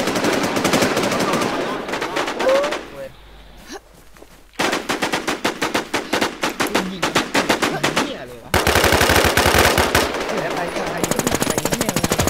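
Rapid automatic gunfire from the online survival shooter Infestation, with dense bursts that stop briefly, resume in sharp stuttering volleys, then give way to a loud sustained barrage. Voices talk faintly underneath.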